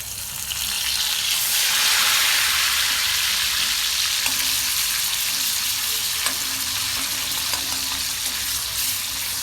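Black masala paste of ginger, garlic, coconut and roasted onion frying in a pan for potato bhaji, a loud steady sizzle with occasional stirring, close up and continuous.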